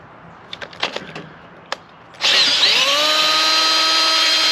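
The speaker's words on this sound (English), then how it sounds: "Drilling into a supercharger." A power drill whirs into the metal of a Whipple supercharger with a loud, steady high-pitched whine after a few clicks and taps, running continuously to the end.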